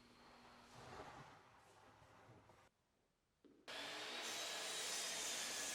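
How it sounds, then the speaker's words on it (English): A saw cuts 2x8 wooden boards into 3-foot sections with a loud, steady whirring rasp. It stops briefly, then starts again even louder and more intense. "The 2 by 8s are what we want to use to make our legs, which is what we're cutting out here"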